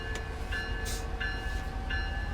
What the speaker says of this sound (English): It does sound a bit like a Class 66.